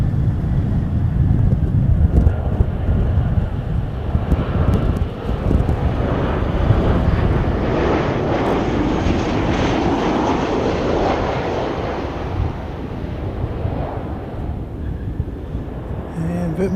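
An airliner lands at Christchurch in gusty wind, a broad engine rumble rising and fading amid buffeting wind noise on the microphone, with a little talk.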